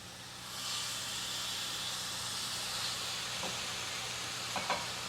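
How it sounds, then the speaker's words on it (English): Chicken breast searing in a butter pan beside Bella mushrooms, giving a steady hiss and sizzle that stays even throughout, with a couple of soft clinks near the end. "And you just nestle that into the pan with your mushrooms, and just let this cook 2 to 3 minutes"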